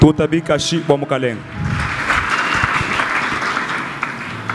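A church congregation at a retreat service breaks into loud, sustained applause and cheering for the Lord, following a brief stretch of someone speaking.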